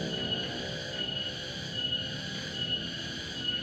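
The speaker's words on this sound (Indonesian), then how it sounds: "Tuh ada suara apa itu, suara tonggeret ya" A steady, shrill buzzing drone of cicadas in the evening with layered high tones, fairly faint and continuous, no voices.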